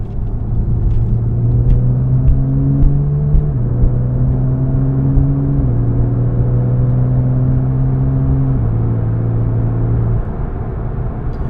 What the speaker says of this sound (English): There is a little bit of a road noise, tire noise I've noticed with this vehicle.